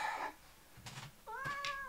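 A house cat gives two meows, a short one at the start and a longer rising one near the end, quiet and close indoors, with faint rustling between them.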